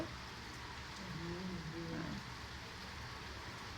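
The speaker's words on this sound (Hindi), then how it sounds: "बारिश भी हो रही है" Steady rain falls outdoors as a continuous soft hiss, fairly faint and even throughout, with no voices over it.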